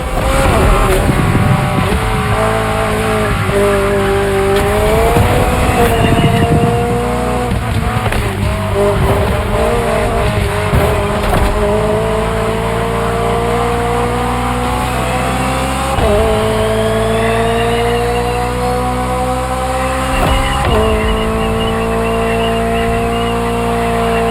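A McLaren open-top sports car drives steadily in a racing video game, its engine holding a loud, continuous tone that rises and falls with gear changes and throttle, with faint talk partly underneath.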